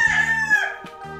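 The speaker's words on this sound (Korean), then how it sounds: "세상에서 제일 크다는 닭 브라마 맞죠?" A large Brahma chicken about six months old gives a short crow that slides down into a throaty cluck, close up, with a brief rustle at the end.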